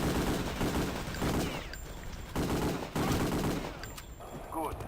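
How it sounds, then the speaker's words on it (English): Panzerfaust rocket fire and explosions in Return to Castle Wolfenstein, loud bursts of gunfire and blasts in repeated waves across the clip, with no talking. "Here I'm using the Panzerfaust to kill this guy"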